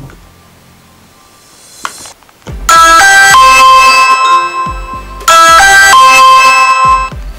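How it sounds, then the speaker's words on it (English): An Amazon Echo sounds its doorbell alert for a Ring doorbell press: two loud, bright melodic chime sequences, the second starting about halfway through, after a quiet lead-in with a single faint click. "You'll notice there's a slight delay between pressing the bell and the Echo alerting you."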